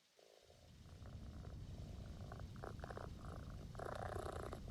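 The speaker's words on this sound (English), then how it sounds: "It's a cat." A cat purrs in the video game PowerWash Simulator 2, a soft continuous rumbling purr that swells slightly louder toward the end, heard alone at low volume.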